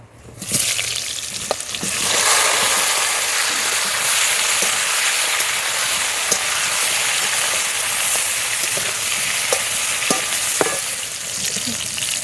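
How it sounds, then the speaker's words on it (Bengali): Jackfruit pieces frying in hot oil in a pan, a dense, loud, continuous sizzle with a few stirring clicks and scrapes, no voices. "এঁচড়গুলো ভেজে নেব"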